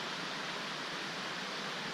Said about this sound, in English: That creek runs year-round.